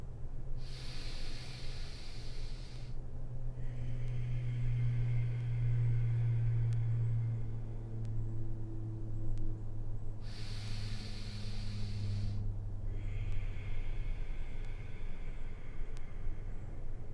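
Two slow, deep breaths during a yoga session, each a long, airy inhale and exhale close to the microphone, separated by a steady low hum and quiet room tone.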